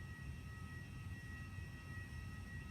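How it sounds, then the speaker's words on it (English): Steady, loud rushing hiss of airplane air conditioning at full blast fills the cabin, broadband and unchanging with a faint high tonal whine throughout. "This is what it looks like when you put the air conditioning on at full blast on an airplane"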